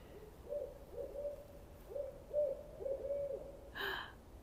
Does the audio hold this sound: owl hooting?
yes